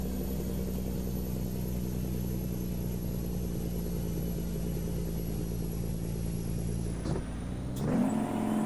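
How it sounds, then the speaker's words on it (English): A truck engine in American Truck Simulator drones with a steady low, mechanical rumble and a faint high whine, then shifts with a brief clunk near the end before the engine note rises, with no talking. "You can accelerate pretty good and the truck just tends to stick."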